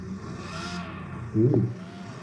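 A car engine hums steadily, then revs in a short, louder burst before settling back, close by with no talk.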